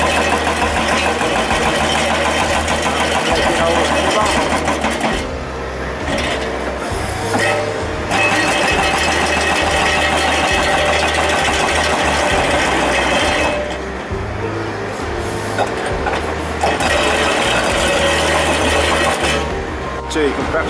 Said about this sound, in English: Got machines going everywhere.